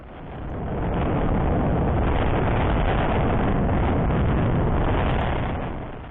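A Hawk 250 motorcycle rides along with a steady, loud roar blended with heavy wind buffeting on the microphone, swelling in and fading out, with no talking.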